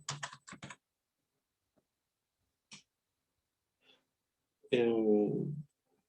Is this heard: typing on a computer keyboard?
yes